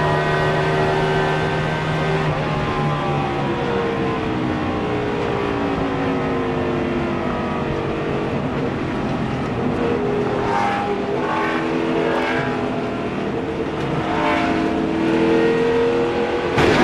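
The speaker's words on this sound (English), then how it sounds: "Listen to that tire cutting down here." Onboard a NASCAR race car at Pocono in 2005, running on a cut-down tire: a loud, steady engine roar drones close up for the whole stretch, with shifting pitch and no talk.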